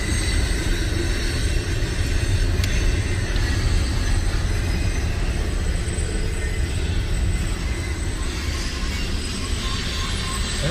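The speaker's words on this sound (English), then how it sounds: "There's another train coming the other direction now." Train passing on railroad tracks in western Maryland or Pennsylvania, a steady loud rumble of wheels and cars heard from a vehicle driving alongside, constant throughout.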